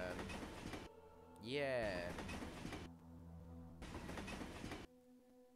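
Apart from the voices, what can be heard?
train driving in Minecraft video game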